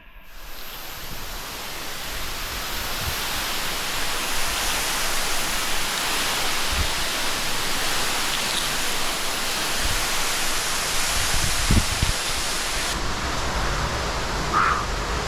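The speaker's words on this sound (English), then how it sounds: "Climb back up this waterfall." A roaring waterfall deep inside a cave gives a broad, steady wash of rushing water, loud and continuous from start to finish, with faint bumps and knocks from nearby movement.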